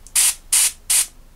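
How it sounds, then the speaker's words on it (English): Thinned paint sprayed close onto a miniature figure: three short, evenly spaced hissing bursts, loud and near, with quiet gaps between. "I'm going to spray"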